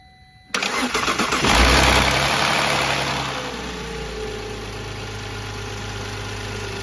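A car engine cranks and catches on the first try, revving up loud and close before settling into a steady idle, after work on the intake and timing. No voices are heard.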